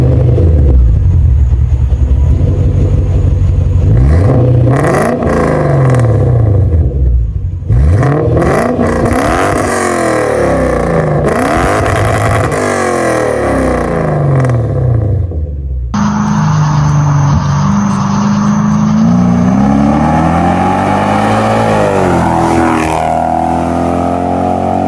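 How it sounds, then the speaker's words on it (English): A Lexus GS430 with a stainless full exhaust and mufflers with an edge pipe, revved repeatedly: loud close engine rising and falling in pitch through several sharp blips, with brief drops between runs. "And this car has a very unique exhaust note."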